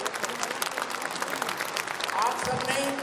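Audience applause at a large Moral Kumbh gathering in Patna, a steady wash of clapping with voices mixed in and a brief rise near the end.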